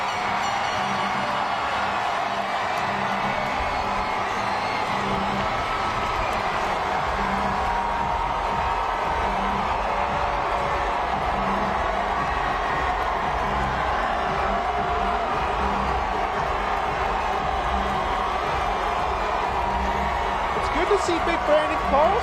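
Large crowd lining downtown Oklahoma City streets for a championship parade, a steady wash of cheering and chatter heard from within the throng, with a constant low rumble underneath and a few sharper whoops late.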